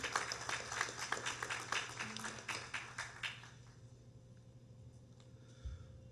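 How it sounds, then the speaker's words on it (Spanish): Applause at a Peruvian forum for a Petroperú workers' union representative: a smattering of nearby claps for about three seconds, then fading into quiet room hum. "Un aplauso también caluroso para él."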